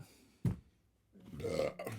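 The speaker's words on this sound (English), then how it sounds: "Oh my God, I burped." A short burp, then a longer, louder, drawn-out belch with a rough, gurgling tone, close and alone.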